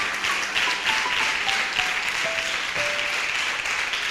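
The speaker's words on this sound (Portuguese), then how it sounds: "Vamos aplaudir isso, que isso é lindo demais." Crowd at a Portuguese-language religious talk about Saint Augustine applauds warmly, a full, even wash of clapping sustained throughout.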